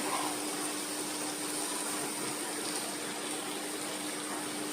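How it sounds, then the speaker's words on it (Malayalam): Water is poured into a pan of okra curry, a steady rushing pour at an even level, continuous with no pauses and no voices. "ഇതിലേക്ക് ഇച്ചിരി കൂടെ വെള്ളം ഒഴിച്ചിട്ട്"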